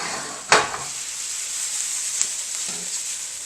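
Onions and shallots sautéing in oil in a pan over medium-high heat, a steady bright sizzle with a sharp stir-like clatter near the start and a few lighter knocks later.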